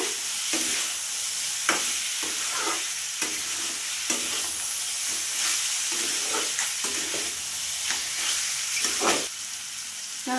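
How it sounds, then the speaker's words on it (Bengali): Potatoes and spices sizzle while being stir-fried in a pan, a continuous frying hiss broken by repeated scraping and stirring strokes, close and fairly loud, with no talking. "ভালো করে কষে নিয়ে তারপরে একটুখানি জল দেবো"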